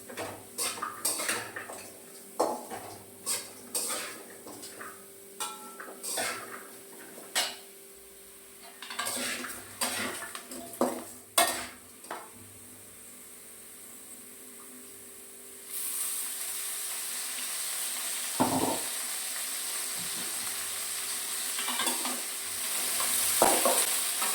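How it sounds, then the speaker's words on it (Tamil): Bitter gourd pieces sautéing in oil in a pan for tamarind kuzhambu, a low sizzle under repeated sharp clinks and scrapes of a spoon on metal, then a louder hiss of frying toward the end, with no talk. "பாவக்காய் வந்து நம்ம இப்போ எண்ணெயில் நல்லா வதக்கி எடுத்துக்கலாம்"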